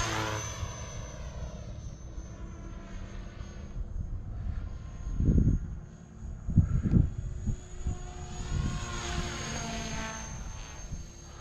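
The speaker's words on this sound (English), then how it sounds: "Little helicopter definitely cranks." A small 300X model helicopter whines and buzzes through the air, its high-pitched motor swelling and fading as it maneuvers, with rotor thumps surging midway.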